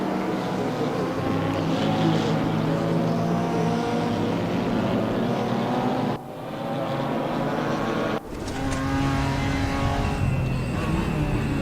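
KTM and BMW race cars roar down the Mantorp Park straight, engines droning loud and steady with gear-shift pitch changes and brief dips between shifts.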